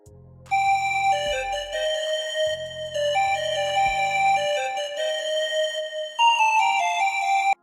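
A bright bell-like synth melody loops over deep booming bass hits, a steady electronic trap beat with no voices.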